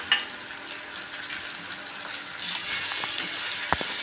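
Chopped onion and tomato fry in an Indian kadhai, a steady bright sizzle running throughout with a few small clicks and spits toward the end.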